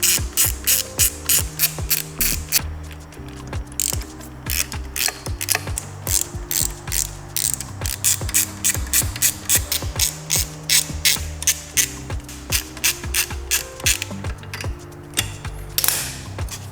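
Rapid bursts of a ratchet wrench clicking as an alternator is removed from an NSX engine, close and loud, in repeated strokes with short pauses between sets.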